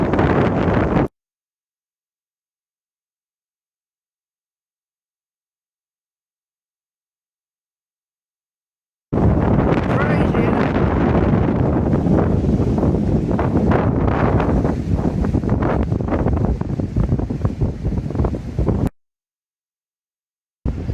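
Strong wind roars and buffets against a microphone beside a pier in Teignmouth, loud and continuous for about ten seconds, with a brief gust near the start, then silence before and after.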